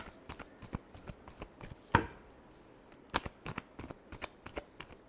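Tarot cards riffled and shuffled by hand in a quick, uneven run of crisp papery flicks, with one louder snap partway through, close and alone.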